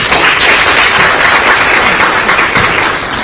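Sustained audience applause from a seated crowd at a formal presentation, a dense, steady wash of many hands clapping at even loudness throughout, with no talk over it.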